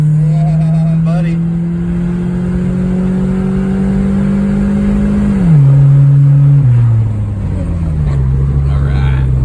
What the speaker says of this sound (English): Floor it. Second gear. Nitrous.